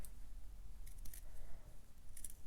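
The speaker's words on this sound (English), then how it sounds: "I'm going to cut off the excess of the black." Scissors snipping away excess black fabric from a sewn ladybug mask, a few faint, soft crisp cuts spaced apart over a low background hum, close by.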